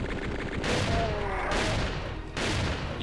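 Enemy weapons blasting in the Doom TNT Evilution game, loud repeated bursts of noisy gunfire in three long waves that fill the space with little pause.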